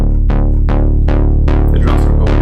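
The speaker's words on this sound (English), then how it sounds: "the filter is opening up and it creates sort of a transition between two sections" A loud, sustained synth chord repeats in regular pulses, its filter cutoff opening so the tone brightens and sweeps open with each hit, building like a transition between song sections.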